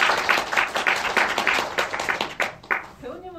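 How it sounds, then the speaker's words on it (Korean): Cinema audience at a screening of the Korean film Flowers of Mold claps for the director, loud rhythmic applause in steady synchronized beats that loosen and fade, with a voice starting to talk at the end. "감독님 잘 주신 거에 대해서 박수로 한번 부탁드립니다."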